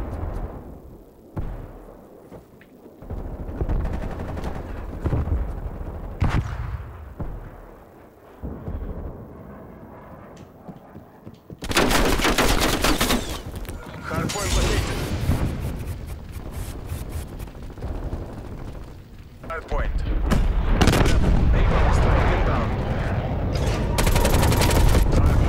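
A napalm strike in a video game erupts as heavy, booming explosions and rolling fiery roars, loud and dense, with bursts of gunfire and quieter gaps between blasts.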